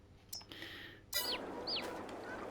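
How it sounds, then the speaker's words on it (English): Rooster in the game Farming Simulator, giving a few short, high clucking calls close by after a quiet start with a faint click, heard alone. "There's our rooster."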